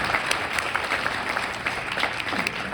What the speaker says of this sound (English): And please clap,